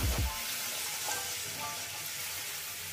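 Water poured into a pan of fried potatoes bursts into a loud sizzle, then settles into a steady hiss of steam and bubbling oil heard up close, with no talk.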